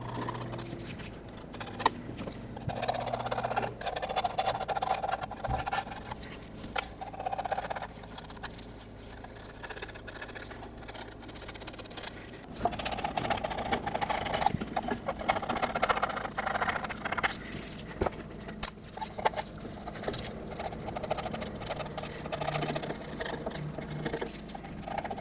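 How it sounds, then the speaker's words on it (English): A gasket scraper scrapes corrosion and debris off the edge of a Ford F-350 6R140 transmission pan, a soft, continuous rasping in irregular strokes at close range with no talking. "I'm going to take a gasket scraper and scrape off any corrosion and debris that might be in the way"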